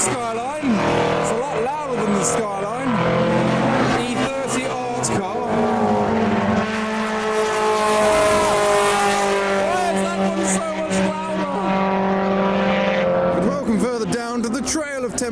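A loud BMW E30 art race car roars past on a track, its engine pitch rising and falling as it revs through gears, with other engines audible at the start and end.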